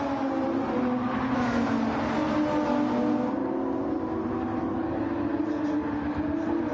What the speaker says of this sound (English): I hear tires squealing